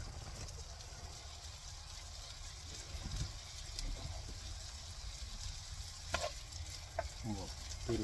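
Food sizzles faintly in a Tefal frying pan, with soft scraping and stirring taps from a plastic spatula near the end under a steady low background rumble.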